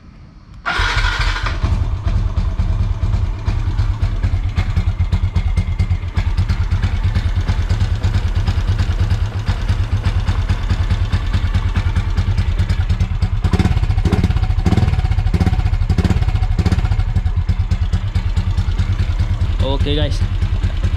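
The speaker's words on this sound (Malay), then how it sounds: "Okey, jom kita start enjin." A motorcycle engine, freshly serviced with RLT Racing oil, cranks and fires, then settles into a loud, steady close-up idle with a rapid even pulse that swells slightly near the end, with someone speaking briefly over it.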